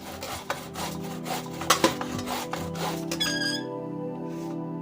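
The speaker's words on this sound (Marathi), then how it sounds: "दुसऱ्या साईडने लगेच किसायला घ्यायचा पेरू" A guava is rubbed against a kitchen grater in steady rasping strokes with a few squeaky scrapes. The grating is close and continuous, then stops abruptly, leaving a faint ringing tail.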